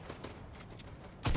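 A single heavy shotgun blast goes off in a sniper-and-shotgun-only shooter match, a loud close crack landing near the end after a stretch of quieter game noise.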